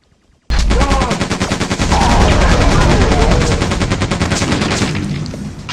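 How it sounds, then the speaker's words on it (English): A machine gun in Quake II fires a long rapid burst of sharp, loud, evenly spaced shots that starts abruptly after a brief quiet moment and runs to the end, fading slightly. "machine gun. This is a viable option until the chain gun is found."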